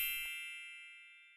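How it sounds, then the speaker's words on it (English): A single bright notification bell ding rings out cleanly and then decays slowly over about a second, alone and without any talk. "ringing that notification bell"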